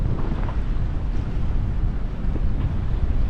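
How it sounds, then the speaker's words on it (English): Strong wind gusting across a sailboat riding at anchor in Papagayo, a steady loud broadband roar with rumbling microphone buffeting throughout and faint water and rigging sounds beneath, no voices. "It's a shame it's so windy."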